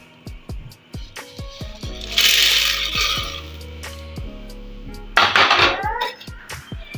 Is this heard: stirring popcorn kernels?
yes